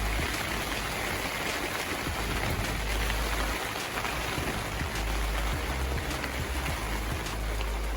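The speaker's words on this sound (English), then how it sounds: "It's very loud, the rain. Yeah. Very heavy rain." Heavy rain pours down steadily, a dense hiss of drops drumming on surfaces, loud and unbroken throughout.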